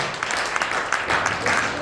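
A short burst of crowd applause at a golf club, dense and steady, with scattered claps blending into a wash of noise.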